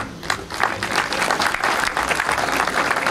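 An audience applauds an inspector at the inauguration of the Violeta Parra house, with dense, lively clapping that swells quickly and holds steady throughout, close and loud.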